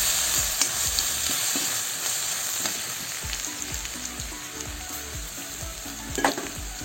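Crushed garlic fries with pumpkin greens in a pan, giving a continuous close sizzle broken by repeated scraping and clattering stirs of a spoon.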